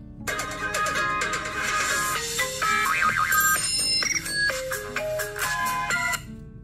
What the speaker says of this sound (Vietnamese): đây là một cái bài nhạc chuông rất là độc đáo của iPhone 14 Pro Max Remix